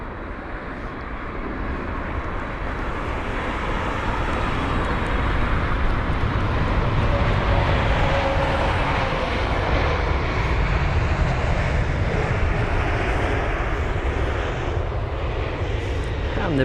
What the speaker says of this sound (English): And the British Airways 777 with a bit of a tan shade on its fuselage